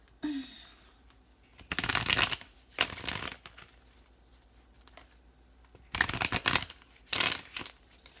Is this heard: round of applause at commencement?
no